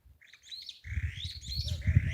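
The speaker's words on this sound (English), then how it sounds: "Happy, happy, happy birds." Flock of small birds on a farm beside a maize field chirping and twittering in quick overlapping calls, with a low rumbling background and a faint bleat-like tone under the chatter.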